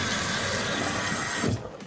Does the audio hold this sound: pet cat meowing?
no